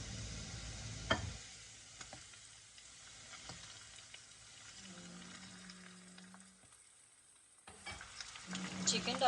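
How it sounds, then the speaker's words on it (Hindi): Chicken pieces frying in oil with garlic in a pan, a low hiss and sizzle with occasional sharp clicks of stirring, quieter through the middle and swelling louder at the end. "चिकन डालने के बाद हमने इसे अच्छी तरह 2 से 3 मिनट गार्लिक और ऑयल के साथ हमने इसे फ्राई करना है"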